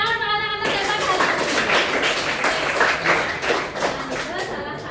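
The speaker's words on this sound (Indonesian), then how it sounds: "Tepuk tangan anak-anak hebat kalian." Schoolchildren in a classroom clap together in a rhythmic, patterned burst of hand claps, loud and close, mixed with voices calling out.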